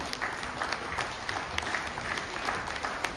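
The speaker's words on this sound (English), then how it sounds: "Come on, let's hear a huge round of applause, ladies and gentlemen." Crowd applause for a compound archery team, a dense, even wash of many hands clapping, moderately distant, with no talk over it.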